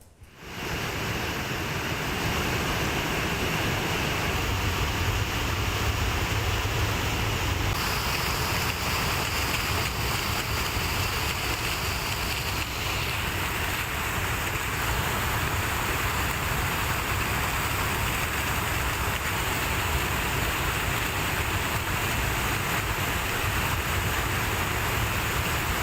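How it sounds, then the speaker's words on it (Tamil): The Panchalinga waterfall in the Thirumoorthy hills, in heavy flood after heavy rain, gives a loud, unbroken roar of rushing, crashing water. The broadband rush is steady and dense and holds for the whole stretch, with no voices. "திருமூர்த்தி மலை பஞ்சலிங்க அருவியில் கடும் வெள்ளப்பெருக்கு ஏற்பட்டுள்ளது"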